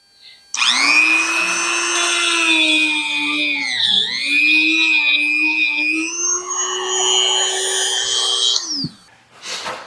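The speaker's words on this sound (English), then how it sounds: "I had to take the Dremel tool with the small wheel on it and just run it in there real quick to get the powder coat" A Dremel rotary tool fitted with a small grinding wheel cuts powder coat from a bolt hole on a Factory 5 Racing Roadster build, a loud, steady high-pitched whine spinning up, dipping briefly under load, then winding down.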